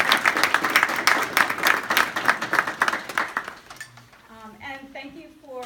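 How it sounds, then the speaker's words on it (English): An audience at a criminal justice reform roundtable gives a round of applause, rhythmic clapping that fades after a few seconds into quieter room noise with a voice starting to speak near the end. "I'd like to give a round of applause"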